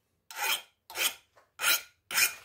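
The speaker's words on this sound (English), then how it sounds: "Here's that chainsaw file again." A chainsaw file rasps across hardened, tempered 1095 steel in four short, even strokes, close and clear with quiet gaps between them.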